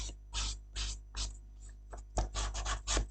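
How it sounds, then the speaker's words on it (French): Metal file rasping along the edges of small paper squares, several short scratchy strokes in quick succession, close and fairly quiet, with no voices. "Je vais passer un coup de lime"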